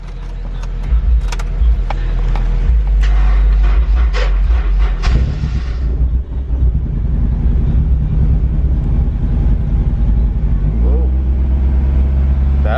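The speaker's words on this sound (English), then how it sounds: "let's see if we can get this car to get started now" Car engine, an S2K or FA5, cranking and then catching and running, with loud low rumbling and clattering that settles into a steady idle drone, heard close up.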